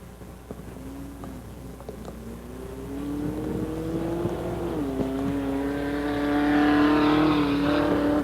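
Winston Late Model stock cars race at Raven Raceway, engines droning and rising in pitch as the field accelerates, the roar swelling louder and closer toward the end with no talking.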